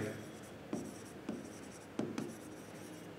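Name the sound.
writing on paper or board during accounts lesson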